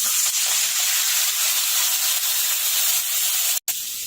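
Water poured into hot oil tempered with asafoetida, curry leaves and green chillies for Surti sev khamni hisses in a loud, steady spray of steam and spatter, close up, with a brief cutout near the end.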